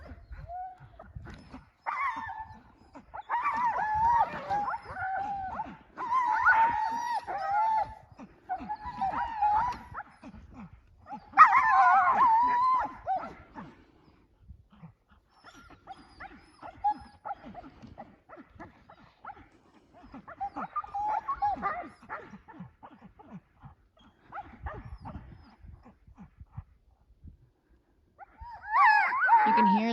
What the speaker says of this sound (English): Dogs going absolutely nuts.